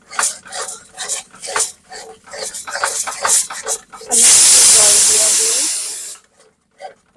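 Onion and garlic masala for Dhaba-style chole hits a splash of water in a hot pan, bursting into a loud, steady steam hiss for about two seconds before fading, with talk and clatter before it.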